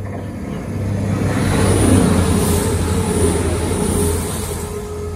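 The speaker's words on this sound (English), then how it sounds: "Passing through now is a CrossCountry service from Paignton to Birmingham New Street." A CrossCountry passenger train from Paignton to Birmingham New Street runs through Stapleton Road station without stopping. A loud, steady rumble of wheels and engine swells, then eases, with a faint high whine throughout.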